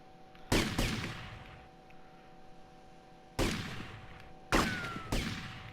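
Gunshots from a pistol at a shooting range in GTA: Vice City ring out as three loud, sharp reports spaced a few seconds apart, the last two closer together, over a steady low game hum.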